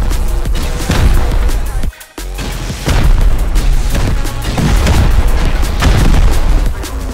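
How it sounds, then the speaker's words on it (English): Rocket explosions hitting base foundations in Rust, a string of heavy booms and blasts landing close and loud with a brief pause, the impacts repeating in irregular succession. "We're gonna rocket these foundations from the inside."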